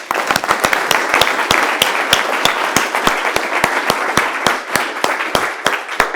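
Steady applause fills a conference room as a presenter walks up to the front, with dense, sharp individual claps standing out close by over a continuous wash of hands from the crowd.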